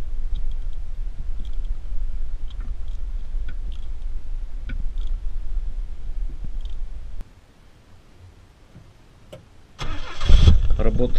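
A car engine running poorly on LPG after an evaporator replacement idles with an uneven, faltering low rumble, cuts out for a few seconds, then restarts loudly near the end.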